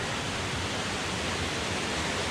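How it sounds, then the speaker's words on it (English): Water cascading down a rocky stream beside a mountain trail in the Adirondack High Peaks of New York, a steady, dense broadband rush that stays loud and unbroken throughout, with no voices. "Some very pretty water cascades here all along this trail."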